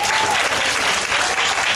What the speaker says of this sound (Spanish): Ese es un aplauso a ustedes mismos